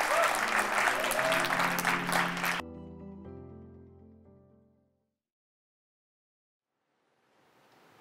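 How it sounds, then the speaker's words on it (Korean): A theater audience at a Korean musical performance applauds loudly for a couple of seconds, then the clapping cuts off into a fading musical tone and near silence before faint applause returns. "다시 한번 박수 부탁드립니다."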